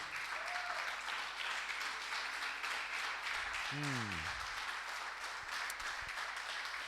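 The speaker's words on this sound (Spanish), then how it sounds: "¿Puedes darle un fuerte aplauso al Señor?" A church congregation applauds continuously, a dense ongoing crowd clapping heard from some distance, with a brief voice calling out over it partway through.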